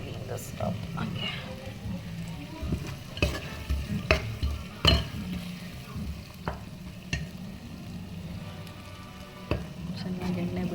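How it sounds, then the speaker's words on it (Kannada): Brinjal frying in a pan sizzles steadily while a spoon stirs and scrapes with repeated sharp knocks against the pan, close up, with a voice speaking over parts of it. "ಬದನೆಕಾಯಿ ಎಲ್ಲ ಹಾಕಿದ್ದೀನಿ. ಸ್ವಲ್ಪ ಚೆನ್ನಾಗಿ ಫ್ರೈ ಆಗಿ ಬೇಯಬೇಕು."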